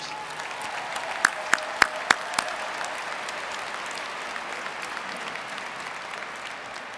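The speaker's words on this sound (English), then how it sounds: "That was actually just cheap applause" Thin applause from a commencement ceremony audience, a steady patter of clapping with a few sharper, louder claps standing out near the start, fairly distant and diffuse in a large hall.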